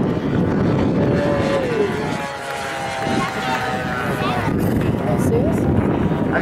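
A B-25 bomber passes overhead at an air show, its propeller engines giving a steady, broad roar with a brief dip midway, while a voice talks over it throughout.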